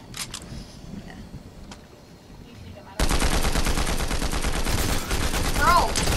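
Fortnite gunfire starts after a quiet stretch of faint clicks and talk, then becomes a loud, sustained rapid burst of close automatic shots that runs to the end.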